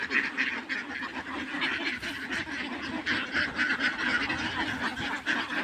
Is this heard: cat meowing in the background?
no